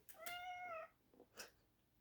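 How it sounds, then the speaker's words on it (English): A house cat gives one drawn-out, clear meow close by, followed by a couple of softer short sounds in an otherwise quiet room. "now the cat's in the room"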